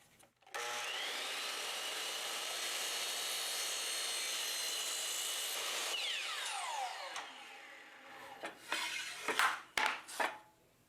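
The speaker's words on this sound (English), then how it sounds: "So now I'm going to cross cut these down to length" A power saw cross-cuts wooden boards to length for drawer parts, a loud sustained whine for several seconds that winds down, followed by a few sharp clunks and knocks as the boards are handled.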